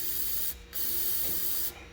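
Two bursts of brake cleaner aerosol spray hiss into an engine, the first short and the second longer, close by with no talking.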